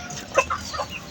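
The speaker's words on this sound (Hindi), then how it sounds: "तो मुर्गा कैसे चीख रहा है" An agitated backyard rooster, left alone after its hen was taken away, lets out a few short, sharp squawking calls close by, with the loudest burst near the end.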